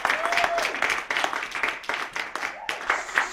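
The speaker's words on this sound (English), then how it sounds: "let's give you a round of applause" An audience claps in a short round of applause welcoming youth participants, the claps coming in uneven bursts while a voice speaks over them.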